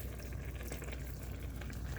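Broth poured into a pot for a Weight Watchers Freestyle home-cooked dish, a steady low liquid pour running evenly throughout without pauses or talk.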